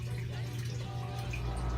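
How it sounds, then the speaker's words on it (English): Water from an aquaponics system pours steadily into a fish tank, a continuous splashing and trickling stream heard close up without pause and with no talking. "I'm putting the water from my aquaponics system into my tank here"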